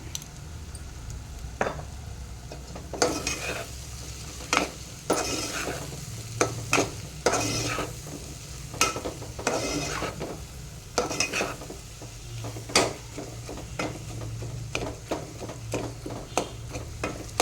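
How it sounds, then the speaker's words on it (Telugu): Onions with chili powder and kasuri methi sizzle steadily in a frying pan for egg curry while a spoon stirs and scrapes, making repeated close scrapes over a continuous fry, with no talking. "మనం ఇదే ఉల్లిగడ్డలనే ఇట్లా మ్యాచ్ చేసుకోవాలి"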